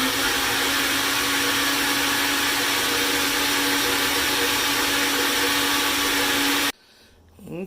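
A blender runs steadily and loudly while pureeing mushrooms for a dairy-free cream of mushroom, a continuous whirring roar that cuts off abruptly near the end, leaving quiet handling noise.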